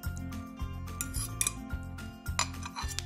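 Egg being stirred into takoyaki batter in a bowl, with a utensil scraping and clinking against the bowl in a steady, repeated rhythm, close and fairly loud, with no talking.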